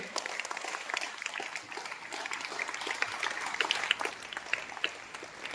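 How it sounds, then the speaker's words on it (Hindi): A standing audience claps to honour an army soldier, steady mid-distance applause of many hands that continues evenly throughout. "सभी खड़े होकर के कर्तव्य ध्वनियों से तालियां बजाकर इनका अभिवादन करेंगे।"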